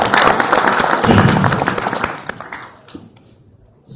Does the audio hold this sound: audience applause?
yes